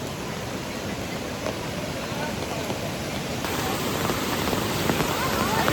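Steady monsoon rain hisses outdoors in a flooded Konkan village in Sindhudurg, a broad, even wash of falling water that grows slightly louder toward the end, with faint voices beneath.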